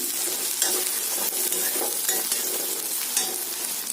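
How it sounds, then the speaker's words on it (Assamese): Onions frying in oil for a chicken curry, a dense bright sizzle close up with irregular stirring scrapes throughout, no one speaking. "এয়া যিখিনি তেলে পিঁয়াজখিনি ভাজ খাব সিমানখিনি তেলেই মই ব্যৱহাৰ কৰিছোঁ"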